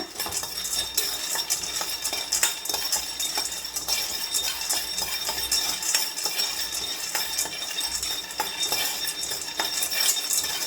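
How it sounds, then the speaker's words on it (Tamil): Peanuts dry-roasting in a pan are stirred continuously, producing a steady, dense rattle and scrape of hard nuts against metal, close and even throughout with no voices. "நிலக்கல்ல வாசம் வர வரைக்கும் நீங்கள் வறுத்துக்கங்க."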